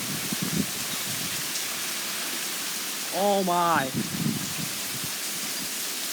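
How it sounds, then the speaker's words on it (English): Heavy rain in a severe thunderstorm with high winds, a dense, continuous hiss pouring down close by while a voice briefly exclaims partway through. "Oh my goodness, the rain is blowing all over my face."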